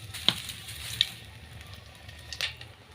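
Dried red chillies fry in hot oil with a faint, continuous sizzle, broken by a few quick crackling pops near the start and toward the end.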